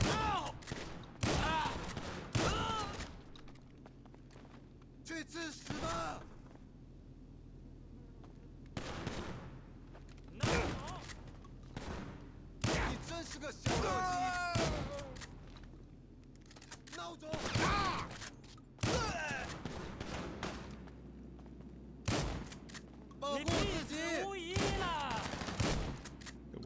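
Shotgun blasts in a video game firefight, loud sharp bursts repeating in quick clusters, with voices now and then between the shots.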